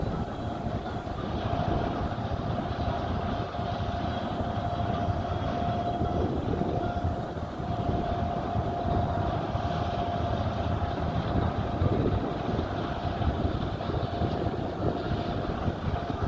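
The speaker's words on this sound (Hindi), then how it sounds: "देखिए ये कंबाइन पास में आ रही है।" A combine harvester cutting wheat in a field draws near, giving a steady, loud mechanical drone and rattling rumble that holds level throughout with no talk.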